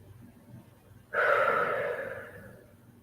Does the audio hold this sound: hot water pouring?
no